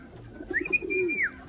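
A racing pigeon from the stock birds in a loft gives one short, close coo with a rising and then falling tone, alone against quiet background noise.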